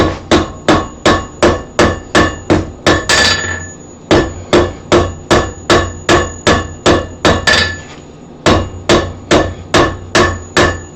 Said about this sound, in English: I'm tipping my hammer, driving the corner in